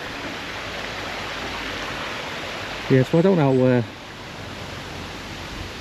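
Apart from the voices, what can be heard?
Dyserth waterfall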